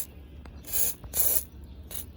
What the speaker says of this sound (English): Spray it with the WD-40